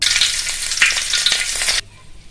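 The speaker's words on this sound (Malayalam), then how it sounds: "ഇനി നമുക്ക് ഈ എണ്ണയിലേക്ക് തന്നെ മസാല ഇട്ട് കൊടുക്കാം" Masala hits hot oil left from frying onions for vegetable biryani, giving a loud, close, crackling sizzle with faint stirring that stops abruptly, leaving near silence.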